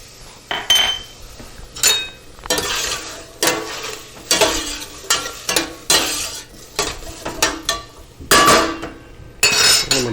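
Vegetables cooking in a pot for matzo ball soup as salt and pepper go in, with repeated loud metal spoon scrapes and clanks against the pot over a soft sizzle, bursts coming irregularly every second or so, no talk.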